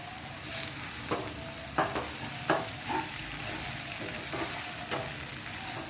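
Sabudana khichdi with potato being stirred and mixed in a pan, a quiet low sizzle under a handful of distinct scraping strokes of a spoon against the pan, spaced about every second, without speech.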